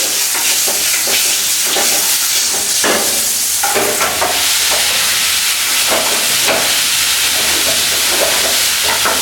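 Food fries loudly in a pan while a spatula stirs it, with repeated scraping strokes over a constant sizzle and no talking.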